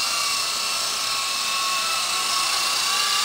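A steady, high-pitched whirring hum of a Blade SR120 remote-control helicopter's small rotors and motor drones continuously and loudly at close range, indoors, with no talking.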